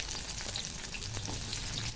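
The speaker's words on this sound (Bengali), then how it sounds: "ওই তেলের মধ্যে দিয়ে দেবো কেটে রাখা পেঁয়াজ" Chopped onions hit hot oil after pomfret has been fried in it, giving a soft, steady sizzle and crackle throughout with no voices.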